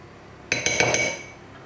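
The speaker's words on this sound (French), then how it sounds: "J'ai rajouté donc le fromage ail et fines herbes et on mélange tous les ingrédients ensemble" A utensil clinks against a bowl while garlic and herb cream cheese is mixed into the other ingredients: a quick run of four or five sharp, close taps, then a fading ring.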